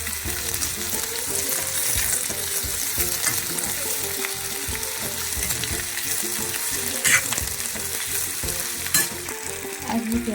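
Chopped onions sizzle in hot oil with cumin seeds while a spoon stirs and scrapes the pan repeatedly, a busy, close crackling hiss with rhythmic scraping strokes throughout.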